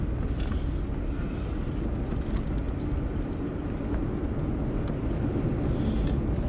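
A steady low rumble of a Genesis car driving home, with constant road and engine noise from inside the cabin and faint ticks over the top.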